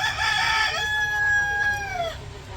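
A rooster crows in one long, clear call that tapers off at the end, set against a steady low hum of other chickens on a poultry farm.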